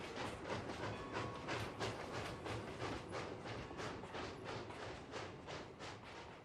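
A Bachmann plastic model Rio Grande narrow gauge mogul locomotive pulls a short freight over a high trestle on a layout, giving a faint, steady rhythmic clickety-clack of wheels over rail joints throughout.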